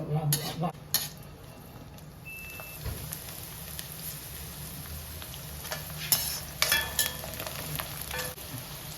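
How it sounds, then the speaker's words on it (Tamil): Garlic cloves fried in oil until browning, a steady close sizzle with scraping stirs from a utensil against the pan and a few clinks, no talk. "இந்த பூண்டெல்லாம் அதில் போட்டு நல்லா ப்ரௌனிஷாக வர முடியும் வறுத்தெடுக்கணும்"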